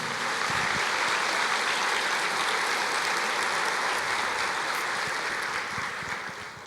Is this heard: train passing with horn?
no